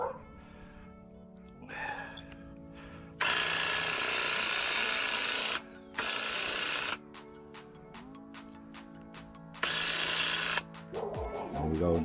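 An electric paint sprayer in primer mode, spraying stain on a pergola and fence gate, runs in loud, hissing bursts of several seconds each, separated by quieter gaps with a motor hum and clicks.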